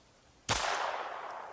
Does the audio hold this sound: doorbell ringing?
no